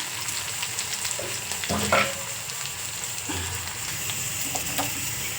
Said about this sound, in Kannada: ಇನ್ನು ಸಾಂಬಾರು ಒಗ್ಗರಣೆಗೆ ಹಾಕಿದ್ರೆ ಇದ್ರ ಕೆಲಸನೂ ಮುಗಿದು